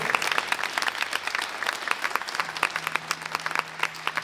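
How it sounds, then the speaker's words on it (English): A round of applause for a school admin team at a high school jazz band concert, dense clapping from the audience, fairly close and even, with a faint sustained tone entering partway through. "Please give them a round of applause."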